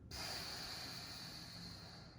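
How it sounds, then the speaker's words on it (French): A single forceful exhale through the mouth during an abdominal breathing exercise: a sustained breathy hiss that starts abruptly and holds steady for about two seconds, close and quiet, with no talking. "je vais souffler"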